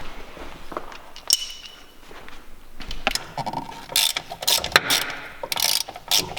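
A ratchet wrench with a 10 mm socket works on a Ferrari being lowered in a home garage, giving bursts of close, sharp metallic clicking and ratcheting with clinks and brief pauses between strokes.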